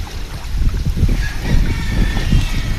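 Continuous sea water wash with rhythmic low surges and a steady hiss, waves lapping at a shore, with some wind buffeting the microphone.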